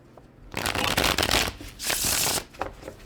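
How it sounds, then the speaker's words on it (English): A Tarot des Ambiguites card deck is shuffled up close, giving two crisp riffling bursts of cards fluttering together, each lasting about a second, with a short pause between. "It just shuffles so beautifully."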